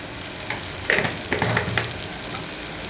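Homemade masala and salt being stirred and fried in a pan for a prawn dish, a steady close sizzle broken by several louder scraping stirs, with no talk.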